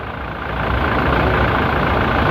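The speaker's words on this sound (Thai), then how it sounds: "อันนี้เป็นห้องเครื่องนะคะ ห้องเครื่องโตโยต้ารีโวนะคะ ปี 2017" A 2017 Toyota Revo's 2,800 cc engine idles with its bay open, a steady, close, even rumble holding at a constant level throughout.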